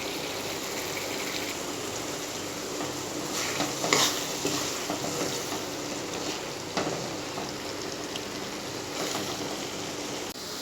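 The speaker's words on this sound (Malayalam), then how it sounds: "ആഡ് ചെയ്തിട്ട് നന്നായിട്ട് മിക്സ് ചെയ്ത് ഈ വെള്ളമൊക്കെ ഒന്ന് വറ്റിച്ചെടുക്കണം." Beef frying with pepper powder and spices in a Kerala-style pan, a steady close sizzle with scraping stirs and a few sharper clinks of the spoon, no talk.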